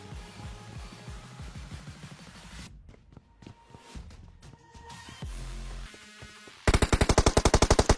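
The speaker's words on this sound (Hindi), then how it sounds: "फिर से फायरिंग की साउंड आती है, कोई बिल्कुल नीचे बैठ के फायरिंग कर रहा है" Gunfire in a PUBG-style battle royale video game: scattered shots and rattles early on, then a loud, rapid automatic burst near the end.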